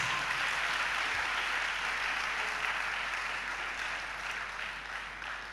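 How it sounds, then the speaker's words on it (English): Steady, dense applause from a sizable crowd at a student awards ceremony, sustained at an even level throughout without any talking. "Please clap for the mother of the house."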